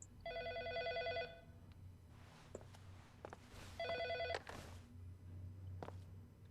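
Old-style telephone bell ringing inside a video game, two clear double-trill rings separated by a pause, fairly loud over a low ambient hum with scattered soft knocks.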